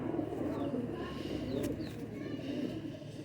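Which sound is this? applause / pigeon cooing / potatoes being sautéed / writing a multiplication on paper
pigeon cooing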